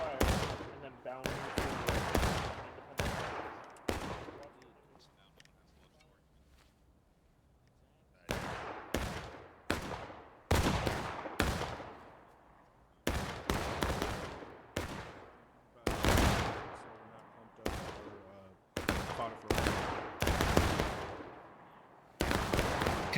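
Musket volleys crack out in War of Rights, a loud series of sharp reports in irregular clusters. Some shots overlap into ragged bursts, and one quiet stretch falls between groups of fire.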